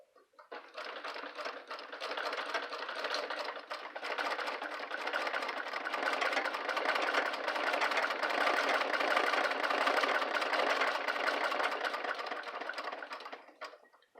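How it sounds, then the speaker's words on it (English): An 1890s White treadle sewing machine runs steadily for about fourteen seconds, a soft, even mechanical whir with a fine rapid clatter throughout. It is close and alone, with no voices, and it fades in and out at the ends. "But this is an 1890s White treadle."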